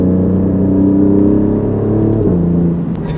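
An Alfa Romeo Giulia QV engine holds a strong, harmonic drone under load, then dips briefly at a gear upshift before pulling on. It is heard loud and close from inside the car, with no talk.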